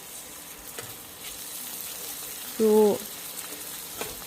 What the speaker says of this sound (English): stir fry this till the tomatoes are cooked